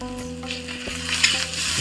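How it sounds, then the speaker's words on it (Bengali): Garlic paste frying in a pan while being stirred during home Christmas-day cooking, a steady close sizzle with scraping spoon strokes through it and no talking. "এখন নাড়বো আমি রসুন বাটা দিয়ে দিচ্ছি আমি"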